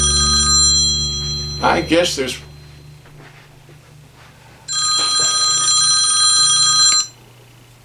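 A telephone ringing during a live music show, its electronic ring sounding in two loud sustained bursts separated by a quieter pause, with a brief spoken word in between.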